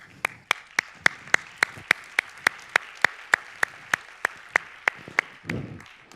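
Scattered, rhythmic claps from a conference audience, about twenty sharp evenly spaced hits close by, ending in a brief rumble.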